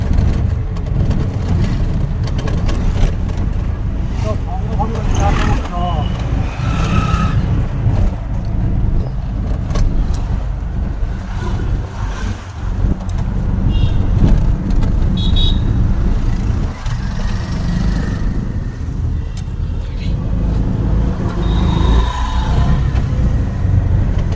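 Riding an e-rickshaw (toto) through busy road traffic in Batanagar, with a constant loud rumble of vehicles and road noise, occasional horn toots near and far, and no talking.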